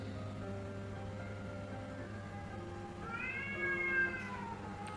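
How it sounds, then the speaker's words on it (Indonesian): A cat meows plainly in the foreground, a drawn-out rising and falling call over a steady low hum, with no talking. "Dan tiba-tiba ada suara kucing."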